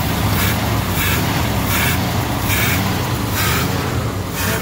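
A 1975 Lincoln Mark IV with a 460 V8, hot-wired after sitting unused for years, runs at raised revs. It gives a loud, steady roar with a slight rhythmic pulse and no break.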